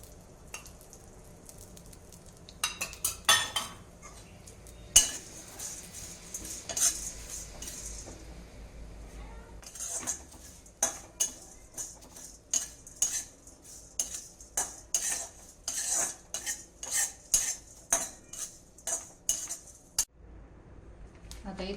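Spices being dry-roasted with a little oil in a pan while making homemade garam masala with four kinds of chillies: frequent metal spatula scrapes and clinks against the pan over a faint sizzle, close and busy, with brief pauses.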